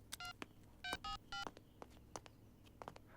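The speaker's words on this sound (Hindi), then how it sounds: "सर, रिंग हो रही है।" Several short bursts of telephone keypad dialing tones in quick succession, with faint clicks and a quiet background in between.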